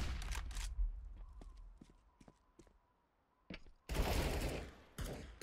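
Gunfire in a Counter-Strike match at the A bomb site: a few quick sharp shots early, a quiet stretch with light ticking footsteps, then a burst of heavy rapid fire and another short volley near the end.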